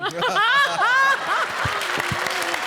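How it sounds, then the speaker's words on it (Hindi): A studio audience on a Comedy Circus stage breaks into dense applause and chuckles right after a short burst of a voice, the clapping continuing loud and close to the end. "जोरदार तालियां, क्या बात है"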